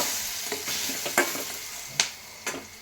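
Ground tomato, chilli and ginger paste sautéed lightly in a pan for rasam, a steady close sizzle with several sharp stirring scrapes and clinks spaced through it, no voices.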